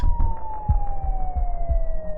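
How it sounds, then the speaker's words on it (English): A distant police siren wails steadily with a slowly falling tone, accompanied by rhythmic low rumbling pulses, moderately loud and continuous. "this would be interrupted by the distant sound of police sirens"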